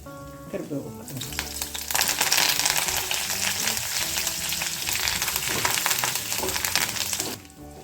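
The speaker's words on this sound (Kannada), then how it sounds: "ಈಗ ಉದ್ದಿನ ಬೇಳೆ ಹಾಕೊಳ್ಳೋಣ ಹಾಗೆ ಸ್ವಲ್ಪ ಜೀರಿಗೆ ದೊಡ್ಡ ಮೆಣಸು ಕಟ್ ಮಾಡಿ" Urad dal, cumin and cut dried red chili dropped into hot oil for a tempering burst into loud crackling sizzle after a quiet start, spitting steadily for several seconds before cutting off abruptly.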